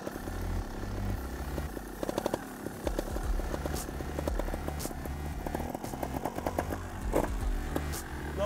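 A motorcycle turns slowly on throttle alone, with no clutch or brake, its engine idling low and steady with gentle, gradual rises in revs, moderately close and unaccompanied by talk.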